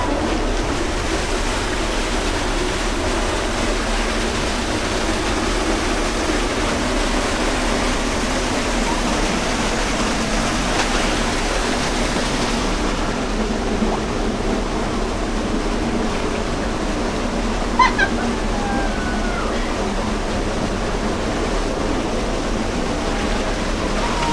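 A stream at a camping farm in Bailen flows with a constant broad rushing hiss, close and steady throughout, with a faint brief sound near the end and no speech.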